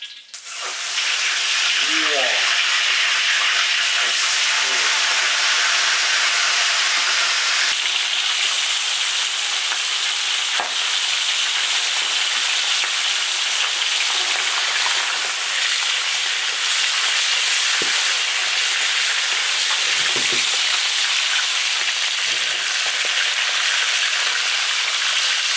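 Yellow catfish pan-fry in an iron wok with a loud, dense, continuous hiss and sizzle close by, some faint spatters and clinks, and a single brief voiced exclamation near the start.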